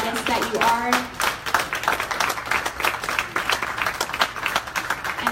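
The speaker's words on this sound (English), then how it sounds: "so that we can give you another round of applause and applaud the amazing" An audience at an artist residency event applauds the creators, an uneven patter of individual claps with a whistle near the start and voices chattering underneath.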